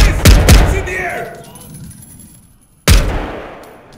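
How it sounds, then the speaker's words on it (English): Gunfire in the tactical police shooter Zero Hour during a police station raid: two loud, sharp shots in quick succession, each with a fading echo, then a third shot after a short pause. "Four shots."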